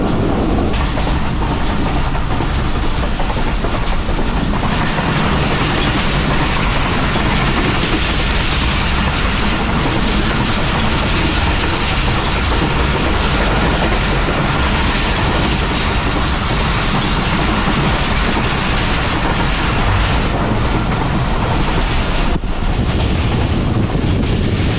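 The Karachi Express running at high speed after overtaking another train near Lundo station in heavy rain, a loud, steady roar of wheels and rushing wind with faint clickety-clack throughout.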